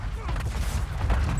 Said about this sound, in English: he's trying to kill me with my own airstrike